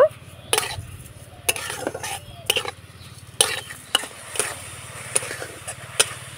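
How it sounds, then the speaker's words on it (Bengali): A spoon stirs carrot filling with sugar and a little water in a pan, giving irregular scraping knocks and clinks every half second or so over a low steady hum, close up. "তো নাড়াচাড়া করে আমি চিনিটা গলিয়ে নিয়েছি"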